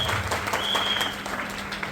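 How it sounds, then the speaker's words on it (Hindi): Audience applause at a speech event, a dense, steady patter of many hands clapping at moderate volume for the full two seconds, with a faint high tone briefly audible beneath it. "एक जोरदार ताली आपके लिए है"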